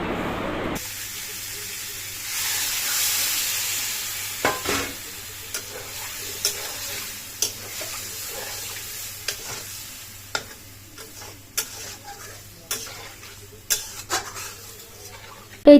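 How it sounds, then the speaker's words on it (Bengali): Chicken frying in a lightly spiced masala, with a steady hiss and a series of sharp spatula scrapes and knocks against the pan coming at irregular intervals, close and fairly loud. "এবার কিন্তু হচ্ছে চিকেনটা দিয়ে একটুখানি ভেজে নিয়ে ঝোল দিয়ে দেবো"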